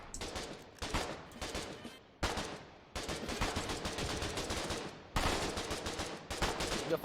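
Automatic gunfire in the online war game Foxhole, fired in long rattling bursts with short gaps between them, loud and close, with a voice faintly under the shooting.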